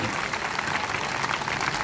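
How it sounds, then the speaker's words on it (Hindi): A church congregation breaks into sustained applause, a thick, even roar of many hands clapping that fills the brief moment without pause or spoken words. "परमेश्वर की महिमा के लिए तालियां बजाओ"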